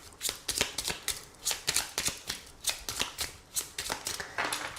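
Lenormand cards shuffled for a 13-card spread, close and fairly crisp, a steady series of rhythmic riffling bursts about every half second, with no voice.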